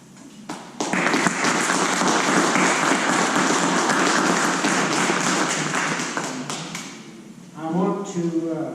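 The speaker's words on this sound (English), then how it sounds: "So, another round of applause to you people." An audience at a Veterans Day celebration applauds, loud and sustained for several seconds before fading, and a voice speaks briefly at the end.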